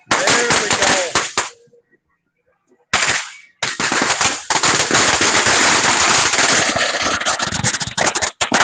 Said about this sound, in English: these are small fireworks, so you won't lose a finger, you'll just lose an eye